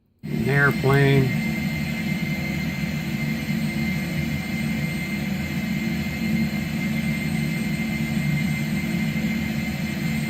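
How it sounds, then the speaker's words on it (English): A jet airplane flies by on an animated desktop wallpaper, a steady, loud roaring engine drone that holds for the whole stretch, with a brief voice at the start. "An airplane."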